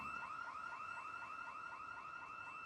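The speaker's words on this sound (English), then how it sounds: "What is with all the alarms in this place?" Car alarm in the Project Zomboid video game, set in Riverside, whooping in a steady repeating rising tone pattern that stays loud and continuous throughout.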